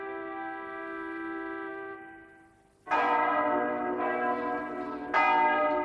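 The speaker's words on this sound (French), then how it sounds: "Là-bas, en Espagne, résonnent les cloches du mariage de Ferdinand d'Aragon et d'Isabelle de Castille." Church bells ring out for a royal wedding in 15th-century Spain, a sustained resonant peal fading before two fresh loud strikes swell again, bright and ringing with no voices.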